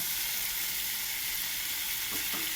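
Spice paste fries in oil for a fish and potato curry, giving a dense, close, continuous sizzle with a couple of brief stirring scrapes near the end.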